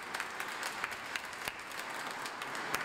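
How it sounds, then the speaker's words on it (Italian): Applause inside the Maronite cathedral in Nicosia, Cyprus, after a papal blessing: steady, fairly faint clapping from a crowd, with a few sharper individual claps standing out across the span. "Sentite gli applausi nella cattedrale maronita di Cipro."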